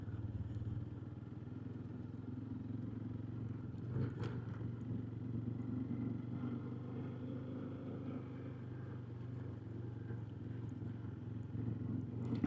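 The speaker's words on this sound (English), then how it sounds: "Super slippery driving on the sand." A vehicle creeps slowly over slippery sand in Bregbo, its engine a steady low hum close by with occasional clatter and bumps, no sharp revving.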